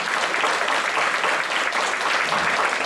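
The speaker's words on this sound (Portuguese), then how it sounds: "pedir uma salva de palmas para eles" An audience at a cinema debate applauds steadily, a dense, continuous wash of many hands clapping at even loudness with no voices on top.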